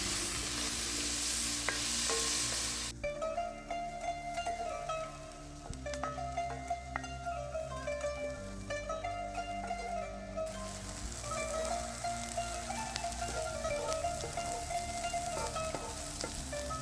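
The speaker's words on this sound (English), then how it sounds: "the oil is hot, we'll add our chopped onion and bell pepper. We're going to saute these" Chopped onion and bell pepper sauté in hot oil for shakshuka, a steady broadband sizzle with stirring scrapes and a few pan knocks, close and continuous, with a tonal background hum through the middle.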